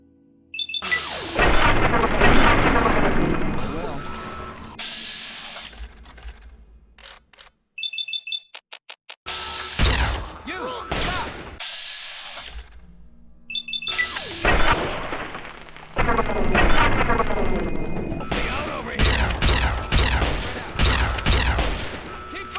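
Plasma rifle fire in Fallout 3, with repeated loud energy-weapon bursts in clusters, separated by a brief quiet gap and short sharp bleeps, within a busy game combat mix.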